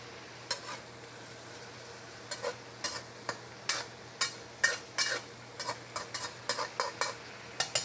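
Quiet frying sizzle beneath a series of irregular scraping, tapping strokes as chop suey vegetables are stirred, folded and pushed around a pan.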